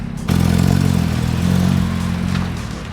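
A Porsche Cayman with freshly installed coilovers pulls away on a shakedown drive, its engine cutting in abruptly with a loud steady drone that holds, briefly dips, then builds again before easing off.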